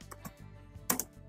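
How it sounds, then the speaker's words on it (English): A few soft, distinct keyboard keystrokes tapping at an uneven pace, quiet and close, ending with a sharper double click of a key. "hit the enter button of the keyboard"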